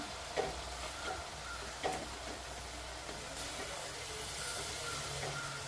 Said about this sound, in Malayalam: ചെറിയ രീതിയിൽ ഇങ്ങനെ ഇളക്കിയെടുക്കാം